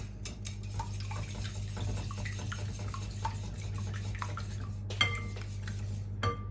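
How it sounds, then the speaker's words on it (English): Eggs being whisked in a large bowl for a homemade carrot cake: light, repeated clinks and taps of a whisk against the bowl over a steady low hum, fairly quiet and close, without voices. "put your eggs into a large bowl like this and just give them a little whisk up"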